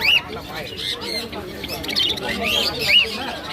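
Pineapple conures and other parrots squawk in repeated harsh, high calls at a busy Srirampur bird market, with crowd chatter and voices talking close by.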